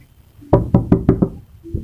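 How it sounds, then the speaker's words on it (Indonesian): Five quick, firm knocks on a door in a rural kitchen setting, close and loud, evenly spaced in a short burst followed by a faint softer tap. "Kita ketokin, siapa tahu ada, pastinya ada katanya."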